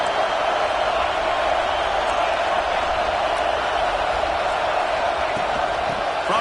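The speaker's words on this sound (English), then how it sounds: "Listen to this crowd just shaking the girders of this place" A stadium crowd in a football video game roars as a dense, continuous wash of noise at steady loudness, broad and sustained, with no distinct voices standing out.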